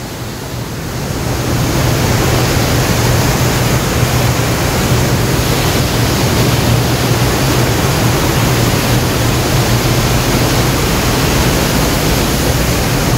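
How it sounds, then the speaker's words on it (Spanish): A river waterfall in Galicia gives a steady, loud, broadband rush of falling water that swells in over the first seconds and then holds constant with no voices over it. "Es un salto de agua"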